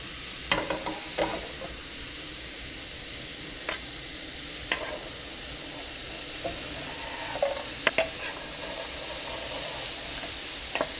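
Onion sautéed in butter in a pan, a steady soft sizzle broken by repeated spoon scrapes and taps as it is stirred and spread, close and with no talking.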